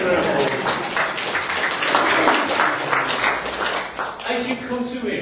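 A church congregation gives a round of applause to a reader during a Sunday service, a steady, fairly loud wash of clapping that thins toward the end as a voice begins speaking.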